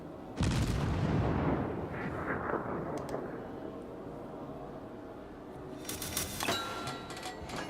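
Naval gunfire from the cruiser Cleveland in World of Warships on the Fault Line Domination map: a loud booming salvo opens, rumbling decay follows, and sharp impact cracks land later, heard alone without speech.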